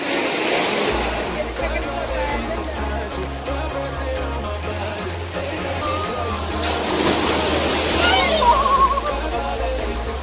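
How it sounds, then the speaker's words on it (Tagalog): Steady, rushing ocean waves and surf-like wash at a beach near Bacacay, Albay, Philippines, with a low rumble and some voices underneath; the roar swells louder near the end as the waves grow stronger. "Lumakas yung alon."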